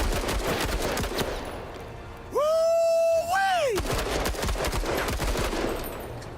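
Rapid gunshots from the MENACE video game rattle in dense repeated bursts, broken midway by a loud sustained tonal whine before the firing resumes.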